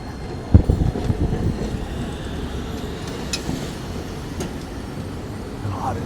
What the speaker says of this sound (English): this is the only station so far where the street train actually goes through the road